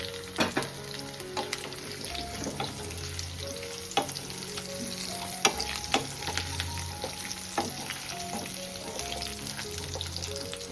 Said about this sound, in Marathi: चला आता आपण एक एक करून सर्व कंटोली टाकून घेऊ तेलामध्ये